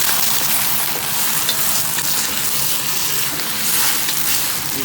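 Rice noodles stir-fried in hot oil in a wok give off a loud, steady sizzle with continuous scraping and tossing throughout, no voices.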